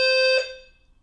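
A single loud, close electronic fire alarm tone sounds steadily, then cuts off abruptly and leaves a fading ring.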